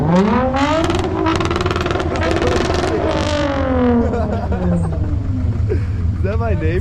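Mazda Miata engine pulling hard under acceleration, a loud continuous rising drone with climbing harmonics that sweeps up, drops and climbs again, with people talking over it.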